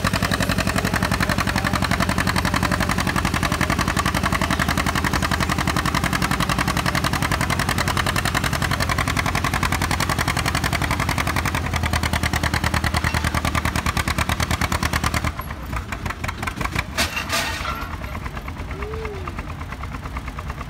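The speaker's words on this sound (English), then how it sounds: "who doesn't love a good tractor pull from Missouri?" A tractor at a Missouri tractor pull roars under full load, a loud rough continuous engine drone with a crackling rattle that cuts down abruptly near the end to a lower idling rumble.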